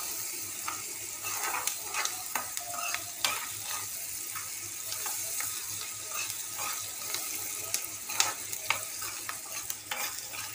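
Salted egg fry with ponnaganti leaves stirred in a pan, a steady close sizzle with a continuous run of small spoon scrapes and taps throughout.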